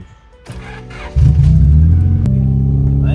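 A 1999 Honda Civic SiR engine cranks briefly, then catches and settles into a loud, steady idle close by with a low rumble.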